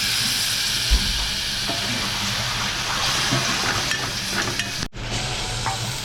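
Malvani prawn masala with curry leaves sizzles and hisses steadily in a pan after a splash of water, a loud, continuous frying crackle with a brief drop near the end.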